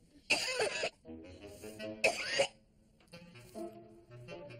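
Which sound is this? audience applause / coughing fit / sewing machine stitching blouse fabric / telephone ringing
coughing fit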